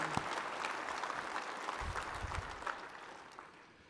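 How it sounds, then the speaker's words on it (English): An audience at a Texas road hand awards ceremony claps in a steady wash of applause that stays fairly distant and then slowly fades toward the end. "give me applause"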